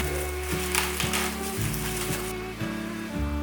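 Tofu-skin rolls of enoki mushroom and seaweed sizzle steadily while pan-frying, a constant crackling hiss beneath background music.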